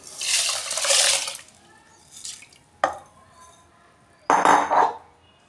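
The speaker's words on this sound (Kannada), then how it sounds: "ಇವಾಗ ತೊಳೆದಿರೋ ಹುರುಳಿಕಾಳನ್ನು" Washed horse gram goes into a pressure cooker with water, heard as several separate splashy pours and rattles of grains against the metal pot, close by with short gaps between them.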